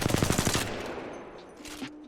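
R-301 rifle firing with a purple extended magazine in Apex Legends: a rapid, steady burst of close, loud automatic shots that stops abruptly, followed by faint mechanical clinks.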